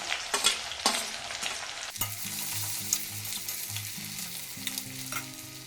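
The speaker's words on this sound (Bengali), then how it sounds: "এবার এই তেলের মধ্যে দিয়ে দিচ্ছি একটা শুকনো লঙ্কা একটা তেজপাতা আর এখানে দিয়ে দিচ্ছি একটা পেঁয়াজ" Dried chilli, a bay leaf and onion hit hot oil with a sharp burst of sizzling, followed by a steady fry and light scraping and stirring, close and fairly quiet.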